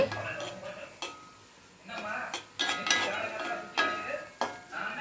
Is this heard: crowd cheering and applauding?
no